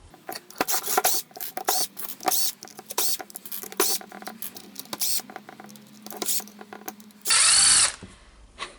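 A power tool whirs in short close bursts while backing out the long housing screws of a Milwaukee M18 impact wrench, mixed with clicks and handling noise, ending in a brief loud high-pitched spin.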